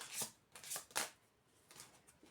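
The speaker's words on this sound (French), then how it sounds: "Une carte retournée, s'il vous plaît." Tarot cards drawn one at a time and flipped over during a February reading, giving a few crisp papery snaps and slides spaced about half a second apart, then a softer pair of card sounds, close and quiet with no talk.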